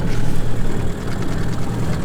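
A jon boat's outboard engine runs steadily on Raystown Lake, a continuous low droning rumble that stays fairly loud and even throughout, with no talking.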